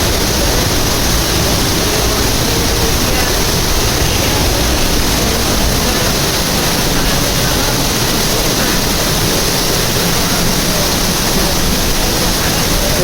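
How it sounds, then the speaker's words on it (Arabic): Tasih waterfall in Ar-Radmah, Ibb Governorate, Yemen, roaring as a steady, loud broadband rush of falling water that holds constant throughout with no talking. "إذن هذا شلال تصيح."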